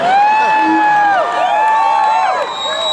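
A large rally crowd in San Francisco cheers and whoops for Andrew Yang, loud and steady throughout, with high shouts rising and falling over a dense roar of voices.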